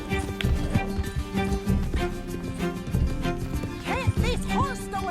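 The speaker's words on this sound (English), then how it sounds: "Can't this horse go any faster?" A horse gallops in the Red Dead Redemption 2 video game, steady hoofbeats running beneath game dialogue and background score, with a brief whinny near the end.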